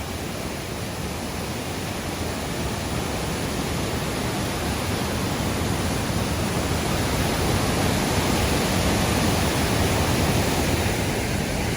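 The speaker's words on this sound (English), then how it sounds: "River behind me just roaring along." A wild creek roars in continuous loud cascades on a rocky hike up toward the 218-metre Feigefossen waterfall by a Norwegian fjord, a steady broadband rush of churning water close by with no voices.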